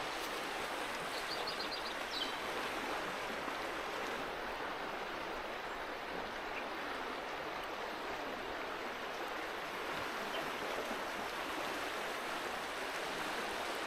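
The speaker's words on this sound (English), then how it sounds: "This is absolutely beautiful. This is the Styx River." The Styx River in Tasmania's Styx Valley flowing steadily, a soft, constant broadband rush of water heard alone and fairly distant, with no voices.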